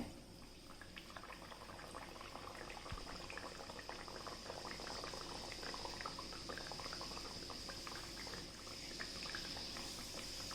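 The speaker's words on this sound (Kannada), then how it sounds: "ಈಗ ಇನ್ನೊಂದು ಸಂಜೀರನ ಹಾಕ್ತಾ ಇದ್ದೇನೆ." Sanjeera, sweet puris filled with grated coconut, semolina and sugar, fry in hot oil, giving a steady dense bubbling sizzle that holds evenly throughout with no talking.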